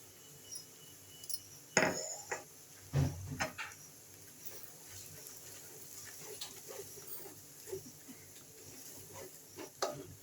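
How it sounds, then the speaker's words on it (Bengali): Spice paste of onion, ginger-garlic and ground spices stir-fried in a pan for a fish curry, with scattered scraping and clinking strokes of a spatula at close range over a faint sizzle, quiet between the strokes. "আমি আবার ভালো করে মশলাগুলো কষিয়ে নিচ্ছি"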